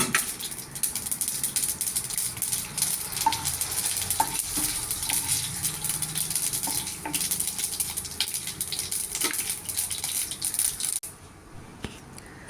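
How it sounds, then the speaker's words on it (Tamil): Mustard seeds splutter in hot oil with a steady sizzle and scattered small pops and crackles, with a few utensil clinks, before the sound cuts off near the end. "எண்ணெய் காஞ்சதும் 1 ஸ்பூன் கடுகு போட்டுக்கலாம்."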